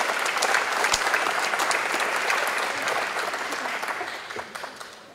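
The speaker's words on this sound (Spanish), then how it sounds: "Un aplauso para todos." An audience at an international circular economy forum bursts into steady, dense applause that fills the room and slowly tapers off over several seconds.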